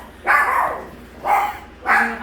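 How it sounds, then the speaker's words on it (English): Dogs barking indoors in a home kitchen: three separate bursts of barking, each about half a second, fairly close and loud with brief quiet gaps between. "The dogs are barking."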